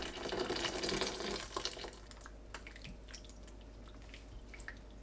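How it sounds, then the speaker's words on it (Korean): Mugwort being rinsed in cold water: a loud rush of running water for about two seconds, then quieter dripping and light splashing. "건져내고 찬물에 헹굽니다."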